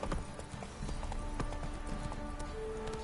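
Roach the horse trots in The Witcher 3, her hooves clip-clopping in a steady, close rhythm over a low ambient bed.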